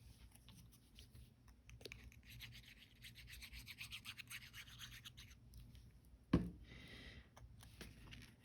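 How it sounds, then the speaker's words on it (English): A small tool scuffs the surface of a mini paper file folder made from vintage office supplies, a faint, steady rubbing scrape in a quiet room, with one sharper tap near the end. "I'm going to take my little tool and scuff it up a little bit."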